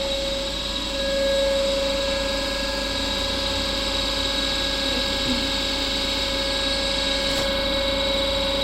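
A DC motor driving a synchronous machine in a lab test setup near 1372 to 1500 rpm, a steady loud mechanical whine and hum with a constant tone, running alone without talk.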